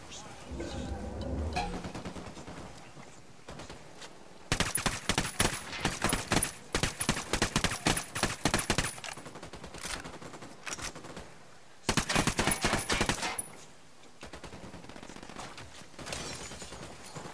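Enemy gunfire in the tactical shooter Ghost Recon Wildlands: loud bursts of automatic fire in dense rattling volleys, pausing and resuming, with voices talking between and under the shots.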